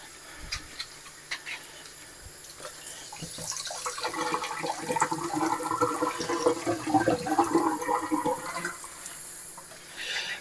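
Water splashing over garden kale being rinsed in a sink, starting sparse and rising into a fuller, rushing gush midway before easing off, close and moderately quiet, with no voices.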